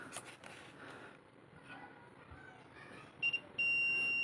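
A SAMWA YX-360TRE-L-B analog multimeter's continuity buzzer sounds near the end, a short double beep followed by a steady continuous tone after a quiet stretch.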